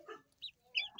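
A hen from a backyard batch of young chickens gives a few short, bright clucks in quick bursts, close and fairly quiet, with brief pauses between calls and no talk over them.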